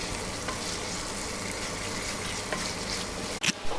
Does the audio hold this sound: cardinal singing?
no